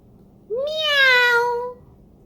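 A single drawn-out meow, clear and close, rising then sliding gently down, voiced by a person imitating a cat.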